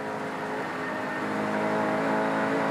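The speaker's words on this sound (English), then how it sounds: "Here we hear Brocky going through that 6-speed gearbox." A 1993 V8 Supercar at Phillip Island races through its 6-speed gearbox, its loud onboard engine note droning and rising steadily as it climbs through the gears, with no talk.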